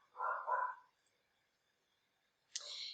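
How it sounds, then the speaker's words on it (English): Dogs chase squirrels in a backyard, giving one short doubled bark up close, a stretch of near silence, then a sharper yelp-like bark at the end. "you can hear my dogs chasing squirrels in the backyard"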